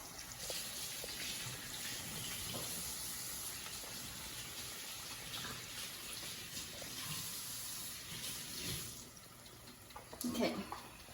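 A sink tap runs steadily while hands are washed in a home kitchen, a continuous faint gush of water with a brief clatter near the end.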